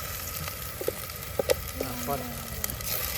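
Ground onion and garlic paste frying in a hot pan for a home non-veg Sunday dish, a soft steady sizzle with a few brief clicks and stirring taps, close and moderately quiet.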